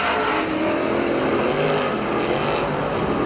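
Super stock race cars roar around the track at Perris Auto Speedway, a dense, loud, continuous engine howl with revs swelling and fading as the pack passes, heard without any talk.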